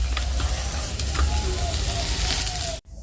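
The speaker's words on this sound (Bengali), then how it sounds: "তেল দিয়ে দিয়েছি তেল গরম হয়ে এসেছে মেখে রাখা মাছটা মানে হলুদ আর লবণ দিয়ে মেখে রেখে দিয়েছিলাম তো মাছটা এখন ভেজে নিচ্ছি" Fish marinated in turmeric and salt sizzles steadily in hot oil in a home kitchen pan, a loud continuous frying hiss that cuts off abruptly near the end.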